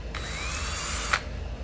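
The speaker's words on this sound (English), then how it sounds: "get it started with the sharper drill bit" A power drill whines steadily for about a second over a low background hum, then cuts off with a brief bite into a metal fuel tank return fitting.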